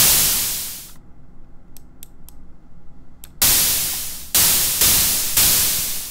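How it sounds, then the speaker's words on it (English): A burst of broadband white-noise hiss from the Sytrus synthesizer cuts off, a few faint ticks follow in near silence, then four short synthetic noise snare hits with quick decaying tails ring out. "in the snare that I'm creating, it's white noise."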